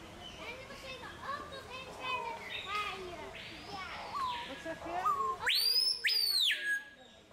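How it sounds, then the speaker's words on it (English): A loud bird in Brazil calls with sharp, whistled, sweeping notes, two or three piercing cries close by at the end, following a stretch of people talking outdoors. "That's a loud bird."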